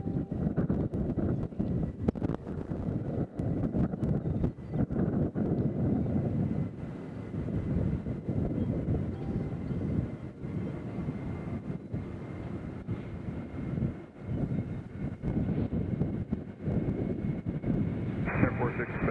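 Gusty wind buffets the microphone at Nashville International Airport while planespotting, a steady broadband rumble and roar running through the whole stretch with no clear aircraft pass standing out.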